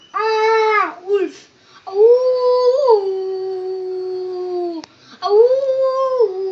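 A human voice imitates a wolf howl in a children's lesson on animal sounds. Long, clear, rising and falling howling tones are broken by short pauses and sung loudly and close.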